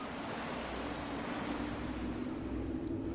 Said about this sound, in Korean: 울음 같은 바람 소리 사이로